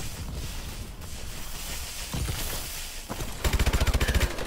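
Gunfire in Call of Duty: Advanced Warfare, with a dull, rumbling backdrop of distant shots that ends in a close, rapid automatic burst of evenly spaced loud rounds.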